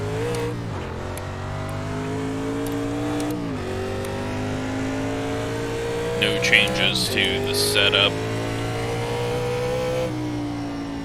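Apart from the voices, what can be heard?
NASCAR race car engines in iRacing video game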